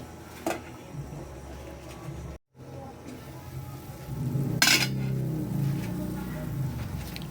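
A lid is set on a cooking pot of chicken tinola, giving a short clattering knock partway through over a steady low simmering hiss, with a fainter tap near the start.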